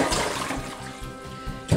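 Dirty rinse water from washing huitlacoche, a corn fungus, poured out into a kitchen sink: a close, loud gush of splashing liquid lasting under two seconds, with no talk.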